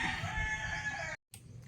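A rooster crows, a strained, drawn-out call cut short by a brief gap of silence.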